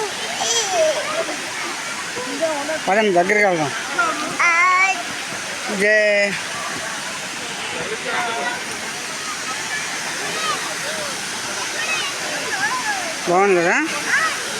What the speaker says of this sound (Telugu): ఇలా ఉంటుంది వాటర్ ఫాల్స్.